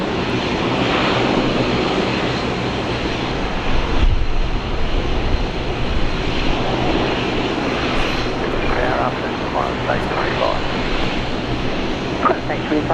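A Boeing 777 airliner at Brisbane International Airport gives off a loud, continuous engine roar that holds steady throughout, with voices talking over it.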